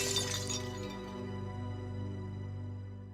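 Defective Jian ware ceramic tea bowls smashed at a kiln, a sharp crash of breaking pottery followed by a ringing, slowly fading shatter and clinking, heard alone with no talking.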